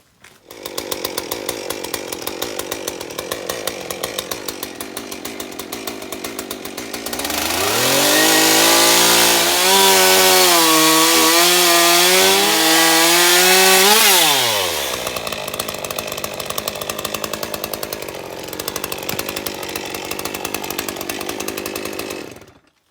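A chainsaw cuts timber for a timber-framed woodshed, idling with a rattling drone, then revving hard into a sustained loud cut for several seconds before dropping back to idle, close and without talk.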